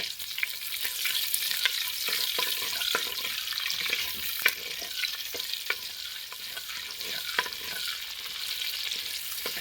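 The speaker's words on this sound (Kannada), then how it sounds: "ಹತ್ತರಿಂದ ಹನ್ನೆರಡು ಸಾಂಬಾರು ಈರುಳ್ಳಿ ಜಜ್ಜಿರೋಂಥದ್ದು ಮತ್ತು ಒಂದಕ್ಕೆ ಕರಿಬೇವು ಚೆನ್ನಾಗಿ ಫ್ರೈ ಮಾಡ್ಕೊಬೇಕು" Crushed shallots and curry leaves frying in oil for a Kerala-style bangude fish curry, a steady close sizzle throughout with scattered scraping and stirring clicks from a spatula.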